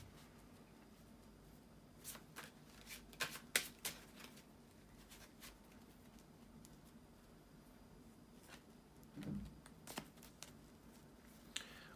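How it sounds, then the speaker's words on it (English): A deck of tarot cards is shuffled by hand at close range, soft riffling and slapping bursts scattered irregularly through quiet room tone with no talk. "bear with me a second, guys, to shuffle the tarot cards"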